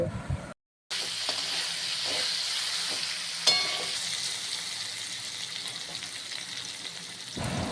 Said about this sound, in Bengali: সুন্দর করে নাড়াচাড়া করে একটু ভেজে নেব